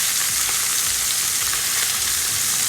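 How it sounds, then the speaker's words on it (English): Oxtail browning in hot olive oil in a big cast iron pot, a dense, steady, loud crackling sizzle heard close up with no one talking. "Now I put my olive oil in my cast iron pot, a nice big one, and now I'm going to brown the meat."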